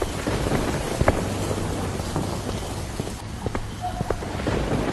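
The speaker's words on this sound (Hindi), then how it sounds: "बारिश काफी तेज पड़ रही थी और आसमान में काले बादलों के साथ तेज तेज बिजली कड़क रही थी।" Heavy rain pours steadily throughout, with low thunder rumbling in the background and occasional sharper drops or cracks.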